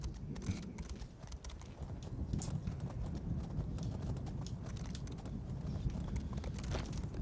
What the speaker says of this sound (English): Get on the horse and stay on the horse